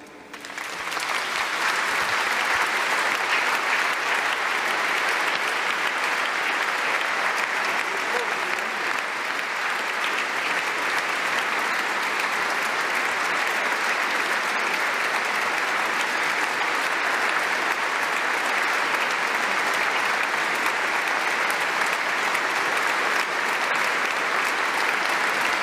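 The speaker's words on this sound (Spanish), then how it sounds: "un largo y fuerte aplauso" A congregation at the installation Mass of Bishop Sergi Gordo of Tortosa claps in long, loud, sustained applause, a thick continuous roar of many hands filling the church for nearly half a minute.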